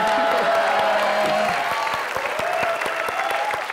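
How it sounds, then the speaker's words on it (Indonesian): A studio audience at a televised dating show bursts into loud, dense applause, sustained throughout with a continuous roar of many hands clapping. "Tepuk tangan dulu dan semua boleh."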